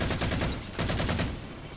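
Magnum pistol gunfire in the Halo 4 video game, a rapid string of loud, punchy shots with dense game noise behind them, close and continuous with no speech.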